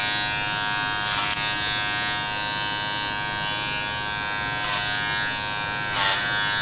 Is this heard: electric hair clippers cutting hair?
yes